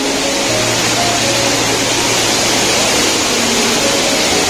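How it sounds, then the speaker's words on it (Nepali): Water of the Babai river in Dang, Nepal, rushes beside a waterfall, a loud, unbroken roar filling the whole stretch with no voices. "उतातिर चाहिँ यो बबई नदी भन्छ यसलाई चाहिँ"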